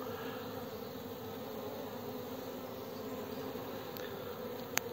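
A continuous swarm-like drone of honey bees in flight at their hive in February, cloudy winter day, with a couple of faint sharp clicks near the end over the steady close buzz.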